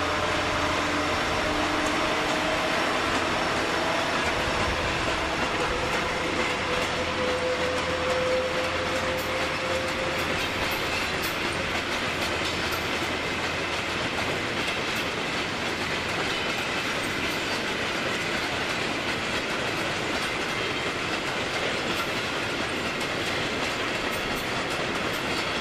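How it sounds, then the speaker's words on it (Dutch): A limestone freight train hauled by locomotive 6504 passes on the Maastricht–Liège line, a loud continuous rumble and rattle of wagons that holds steady throughout with a faint wheel squeal early on and no voices. "Hier komt de 6504 nu, richting Fizé, met de drie productentrein, oftewel de kalktrein."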